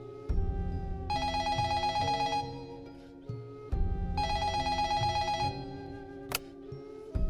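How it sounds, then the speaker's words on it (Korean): A telephone bell rings in two long bursts separated by a short pause, loud and close, with a bright electronic ringing tone over a background music bed, and no voices. "한 통의 전화벨이 울렸어요"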